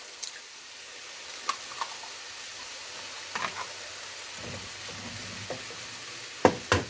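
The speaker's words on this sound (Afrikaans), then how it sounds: "Gaan ek my 3 eiers inkraak en dit saam daarin braai." Three eggs frying together in a dry pan with no oil give a steady, quiet sizzle with a few faint clicks and taps of handling, ending in a couple of sharper knocks.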